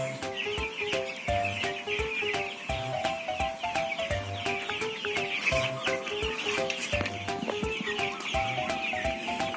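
Crowded farm chickens waiting for water, a dense, continuous chorus of clucking and squawking hens, loud and close, with no talk.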